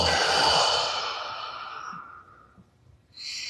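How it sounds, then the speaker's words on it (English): A long, slow exhale through the mouth during a flexibility and movement routine, a breathy sigh that gradually fades, followed by a short soft breath near the end. "Exhale through the mouth."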